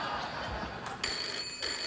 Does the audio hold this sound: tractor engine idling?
no